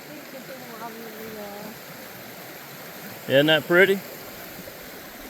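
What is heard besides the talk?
flowing stream on a hiking trail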